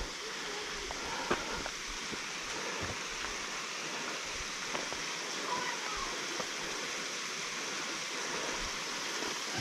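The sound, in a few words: small waterfall on a mountain hiking trail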